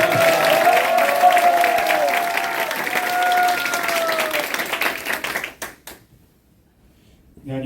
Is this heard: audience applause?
yes